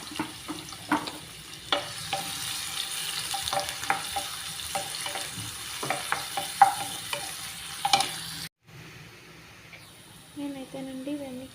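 Onions and green chillies frying in hot oil, a soft sizzle under repeated stirring and clinks of a spoon against the pan, close by, briefly cutting out before a faint tail.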